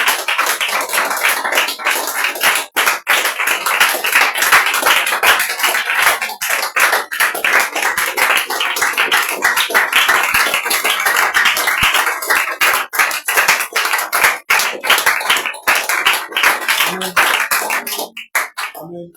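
Church congregation applauds continuously at a worship service, dense rapid clapping that stays loud and fills the room for a long stretch, with a few sharper hand slaps standing out, and briefly tapering near the end.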